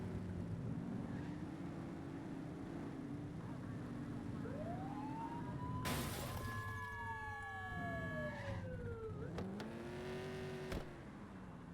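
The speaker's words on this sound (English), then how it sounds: "Get behind them and blip the siren to make them pull over." A police car siren in the video game Precinct blips in short rising and falling whoops over a steady engine hum, followed by a brief electronic yelp burst.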